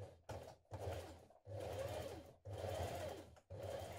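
A sewing machine runs in four quick bursts, topstitching denim jeans along the crotch seam, each run steady and close with brief pauses between.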